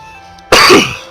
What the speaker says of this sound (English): Sorry about the coughing, it just happens.